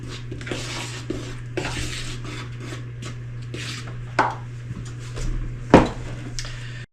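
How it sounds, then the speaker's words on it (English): Dry cookie ingredients, including salt, being mixed in a bowl, with a close, repeated scraping and tapping of a utensil against the bowl, a clear clink near the end and a steady low hum underneath. "Mix this up."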